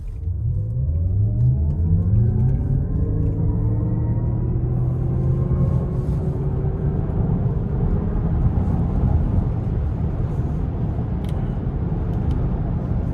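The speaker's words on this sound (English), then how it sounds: "So pretty good charge on the battery, so I'm gonna floor it." A 2026 Cadillac Optiq RWD electric car accelerates at full throttle, heard from inside the cabin: a thin electric motor whine climbs steadily in pitch over a loud, continuous rumble of road and tyre noise.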